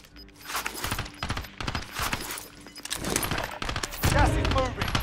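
Rapid bursts of gunfire from enemy players in the Call of Duty: Modern Warfare video game, dense repeated shots close by and loud throughout, mixed with voices talking over the action.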